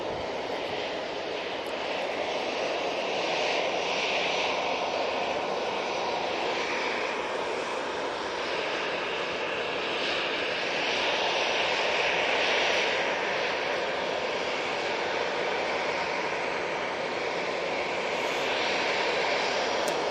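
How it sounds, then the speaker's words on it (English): A Ryanair jet airliner departing Manchester Airport, a loud, continuous broadband engine roar holding steady and close for about twenty seconds, with no voices. "RyanAir going out next"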